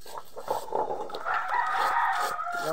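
A fighting rooster crows loud and close in one long, drawn-out call, with no talking over it.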